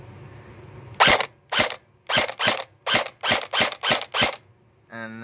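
Ten sharp, loud gunshots crack in a fairly even semi-automatic rhythm, each a clean report about a third of a second apart, followed by a short metallic rattle at the end.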